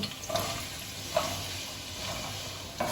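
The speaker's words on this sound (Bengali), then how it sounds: "তেলটা ভালো মতো গরম হয়ে গেছে এবার সবার প্রথমে কিন্তু আমি গাজরটা দিয়ে দিচ্ছি" Carrots frying in hot oil in a pan while fried rice is being made, giving a steady, fairly loud sizzle with a few light stirring knocks and no talking.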